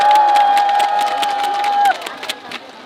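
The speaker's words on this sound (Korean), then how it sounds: "여러분 축하의 큰 박수 보내주시기 바랍니다." A crowd claps and cheers loudly, with a steady ringing tone held over the noise for a couple of seconds before the applause thins out.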